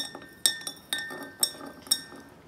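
A spoon stirring sand into a glass of water during a kids' science experiment, giving four bright, ringing clinks against the glass at a steady pace with quiet scraping in between.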